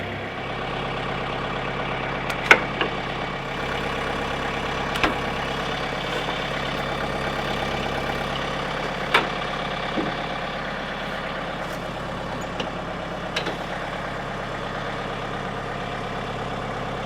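A John Deere 110 TLB tractor engine runs at a steady idle, a continuous low diesel rumble close by with a few faint knocks and clicks over it, no voices.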